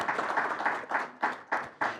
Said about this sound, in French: En votre nom, je veux appeler à l'applaudir particulièrement.